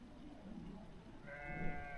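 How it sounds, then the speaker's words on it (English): A single sheep bleats near a bothy in rural Wales at night, a short wavering call rising out of steady wind and ambient noise, faint but fairly close. "I just heard a sheep."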